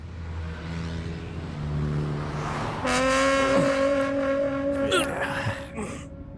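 A new air-conditioned car pulls away, its engine note rising in a steady revving whir that builds from a low rumble into a clear, loud harmonic drone with a brief tire squeal near the end.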